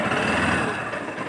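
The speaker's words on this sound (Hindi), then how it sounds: "अभी मैंने बाइक ऑन की" A Honda CB Unicorn 160 motorcycle idles in neutral just after being started, giving a steady, fairly loud engine drone and hum close by that runs through the whole moment without any talk.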